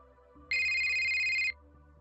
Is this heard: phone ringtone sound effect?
yes